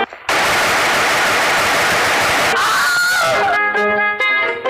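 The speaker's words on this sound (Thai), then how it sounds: "เขาได้จกปืนสั้นอันยาวเหยียดของเขาออกมา ยิงไปหนึ่งนัด" A gunshot sound effect rings out as a loud, sharp burst of gunfire with a harsh, noisy tail, followed by ringing tonal echoes that fade away.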